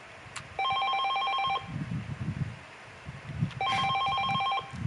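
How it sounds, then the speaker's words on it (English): A telephone rings at home in two clear bursts of bright electronic trilling separated by a pause, with soft rustling and handling noises in between; no one speaks. "He clucked his tongue in annoyance as the ringing phone broke his train of thought."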